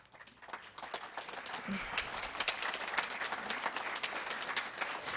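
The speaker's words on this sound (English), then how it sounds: "Please, no clapping." Audience applause at a Sarasota County school board meeting, a dense patter of many hands filling the room for several seconds after a speaker finishes, with murmuring voices underneath.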